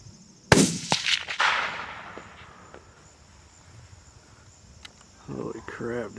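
A single close, sharp rifle shot from a Christensen Arms Mesa chambered in 300 PRC, fired during a hunt outdoors, with its report ringing out and fading over several seconds before voices start talking at the end.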